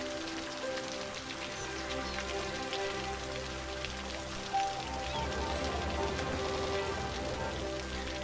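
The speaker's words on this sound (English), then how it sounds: "Sun's shining, yet it's raining." Rain patters in the city-building video game Cities: Skylines, a steady spatter of drops over a soft tonal ambient music bed at moderate level, with no speech.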